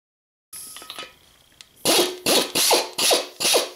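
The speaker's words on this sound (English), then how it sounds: "I'm going to use this grinding stone, put it in the drill, clean it all up" A drill fitted with a grinding stone whirs in several short bursts, grinding against the metal of a Chevy engine block, each lasting about half a second with brief pauses between, close and loud.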